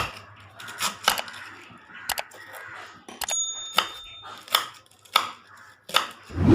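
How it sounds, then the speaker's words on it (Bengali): Cabbage is cut with a knife on a board in a home kitchen: a series of uneven, close chopping thuds and crunches with short pauses between bursts, and no voices. "এখন দেখো বাঁধাকপিগুলোকে কেটে দিচ্ছি আমি"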